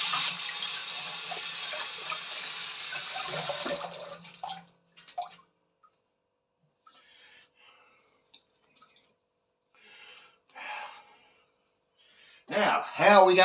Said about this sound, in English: Now we'll give our fingies a rinse.